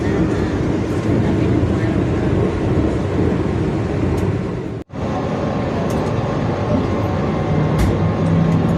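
Interior rumble of a Vande Bharat Express running at speed on its approach to Vriddhachalam station, a loud, steady roar broken by a brief dropout near the middle.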